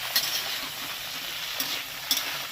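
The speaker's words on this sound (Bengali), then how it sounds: "এগুলোকে আগে ভালো করে ভেজে নিতে হবে" Vegetables frying in a pan while being stirred, a steady close sizzle with a few brief scrapes and clatters of the spatula against the pan, no voices.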